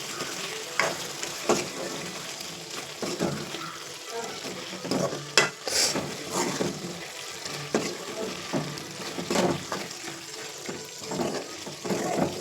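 Cauliflower masala with curry leaves is stirred in a pan, the spoon scraping in irregular clicks and knocks over a steady close sizzle, with occasional watery splashes.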